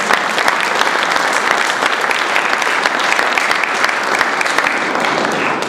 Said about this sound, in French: Donc vous pouvez applaudir nos amis espagnols.